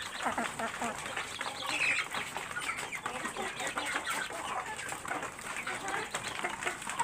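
A crowd of farm chickens clucks and squabbles over homemade feed, a dense, continuous chorus of close, overlapping calls with scuffling throughout.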